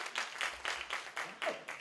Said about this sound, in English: By your applause?